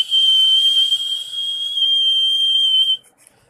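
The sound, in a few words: buzzer of a light-sensitive LDR theft alarm sounding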